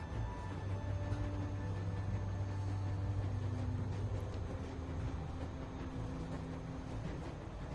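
A moving train in the video game The Walking Dead, heard as a steady low rumble with faint droning hums throughout, quiet and continuous with no clear clatter.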